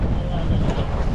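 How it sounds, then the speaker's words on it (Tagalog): Strong wind roars against the microphone in a continuous, loud rumble at sea, with a hint of rising waves moving underneath. "Ayan, medyo lumakas na hangin."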